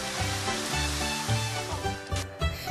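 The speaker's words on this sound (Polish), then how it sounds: "Silne podmuchy wiatru docierają aż tutaj." Strong wind gusts batter the microphone on Babia Góra, a rough broadband roar that surges in short bursts over a few seconds.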